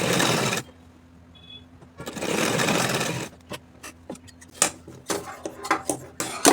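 A sewing machine stitches a fabric strip onto a kurti in two short, close bursts separated by a pause, followed by scattered clicks and handling taps.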